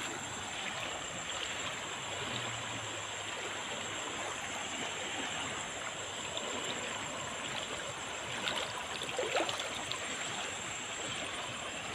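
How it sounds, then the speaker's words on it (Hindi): Strong water flows and babbles steadily in a stream in Angul district, a dense continuous rushing wash that stays even throughout with a few brighter splashes near the end. "खल खल हो पानी बही चलुची"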